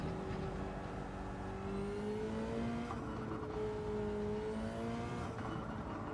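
A race car engine in the video game Gran Turismo 7, a steady whining drone that rises in pitch through repeated gear shifts, sustained and fairly close without talking.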